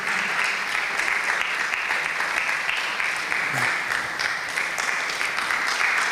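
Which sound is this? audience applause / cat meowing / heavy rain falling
audience applause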